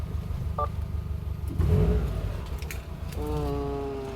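A Subaru all-wheel-drive car engine cranks and catches with a burst of noise, then settles into a steady idle with a tonal hum. No one speaks.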